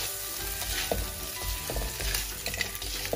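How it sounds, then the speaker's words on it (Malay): Potatoes and dried fish sizzling in oil in a pan for sambal ikan keropok, a continuous crackling fry with occasional stirring scrapes and clinks, close and alone without talk. "Jangan terlalu lama goreng."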